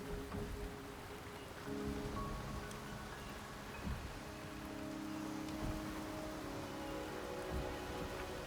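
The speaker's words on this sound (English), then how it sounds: "The rain is subsiding." Steady rain falls in the video game Wuthering Waves, a soft, even hiss of droplets with faint patters, quiet and continuous with no voices.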